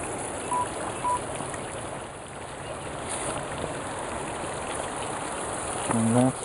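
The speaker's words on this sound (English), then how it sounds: "There's a little creek that feeds it." A small creek flows steadily at the top of a frozen waterfall on a winter hike, a soft continuous wash of water with a few faint bird chirps and a brief voice near the end.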